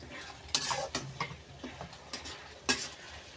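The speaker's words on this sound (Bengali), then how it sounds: "মশলাটা ভালো করে মিক্সড করে নিচ্ছি।" Spoon stirring a spice mixture through chicken frying in a pan, several sharp scraping clinks at an uneven pace over a soft, steady sizzle, close by and with no talk.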